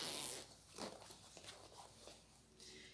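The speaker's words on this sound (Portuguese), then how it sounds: "Abro o zíper." A zipper is pulled open on a handmade fabric toiletry pouch, a faint, quick scratchy rasp near the start followed by soft handling rustles, with no talk.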